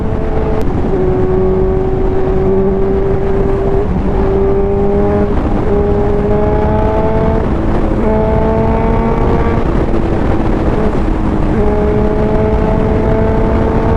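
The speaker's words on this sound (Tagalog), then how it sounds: "Ay nako, Napakasarap magmotor." A Kawasaki Z1000 motorcycle on a breakfast ride, its engine whining steadily and rising through repeated gear changes, loud and close with constant wind noise.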